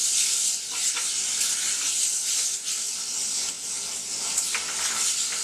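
Tomatoes cooking in a hot pan, a steady loud sizzle and hiss that runs unbroken, with occasional stirring scrapes and no voices.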